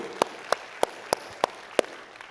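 A congregation at a church sermon gives a short round of applause, heard as six widely spaced, distinct claps over about two seconds, fairly quiet and with no voices over them.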